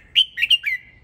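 A red-whiskered bulbul, a fierce competition-grade bird, gives a short burst of three or four bright, clear whistled chirps, close and loud, with no other sounds around it.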